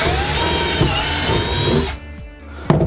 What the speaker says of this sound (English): you're going to drill the bottom hole for the urinal